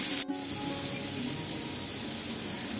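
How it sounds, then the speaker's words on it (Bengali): Onion frying with salt in a pan, with a steady soft hiss and sizzle that holds at an even level throughout, preceded by a brief clatter at the very start. "লবণ দিয়ে একবারে একটু লাল লাল করে পেঁয়াজটা ভেজে নেব"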